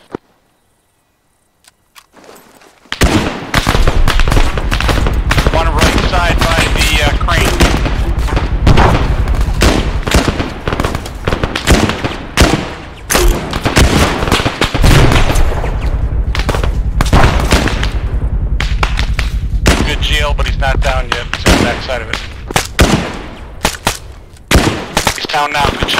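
Dense bursts of rifle and machine-gun fire in the video game Arma 3, sustained rapid volleys near and loud for most of the stretch after a quiet start, with brief pauses.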